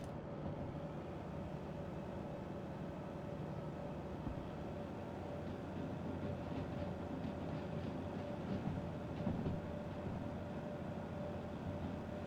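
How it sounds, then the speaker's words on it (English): A DH4 diesel locomotive in the Derail Valley train game hauls a long string of cars, a steady low rumble and rolling rail noise that holds evenly throughout with faint clicking, no voices. "we got a big old long train behind us"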